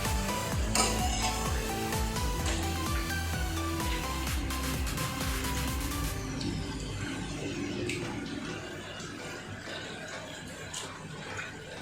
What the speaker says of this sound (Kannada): ಇವಾಗ ಗೀಝರ್ಡ್ ಹಾಕ್ತಿದ್ದೀನಿ.